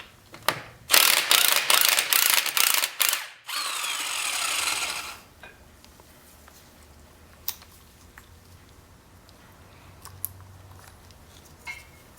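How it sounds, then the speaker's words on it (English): A ratchet wrench on a socket clicks rapidly in loud bursts as it backs a nut off a stud on a Ford F250 Super Duty front axle. A sustained whirring spin follows, then the sound settles into quiet workshop background with occasional faint clinks. "I'm getting the socket and putting it on the nut to remove the nut off the stud."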